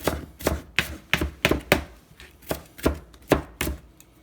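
A knife chops onion finely on a cutting board in a kitchen, steady quick thuds in an even rhythm, close and fairly quiet with no talking.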